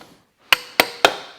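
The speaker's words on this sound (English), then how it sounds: "Let's just sit it upside down on its carburetor and bash on it a bit more." Hammer blows on a Reliant van cylinder head set upside down on its carburettor, three sharp metallic strikes about a quarter second apart after a brief quiet, each ringing out briefly, close and loud.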